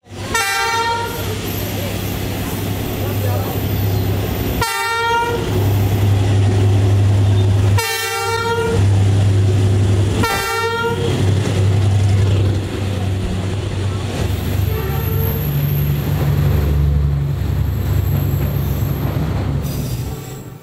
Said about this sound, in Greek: τώρα θα περάσει άλλο ένα τρένο σε κάνα 5 λεπτό που θα το δούμε από πάνω